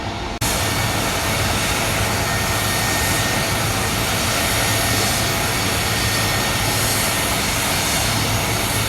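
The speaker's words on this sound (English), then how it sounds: "The Air Force One carrying President Joe Biden just arrived at JFK International Airport." Air Force One jet aircraft arriving at JFK International Airport, a loud, steady roar of jet engines that fills the whole stretch after a sudden onset, with no voices over it.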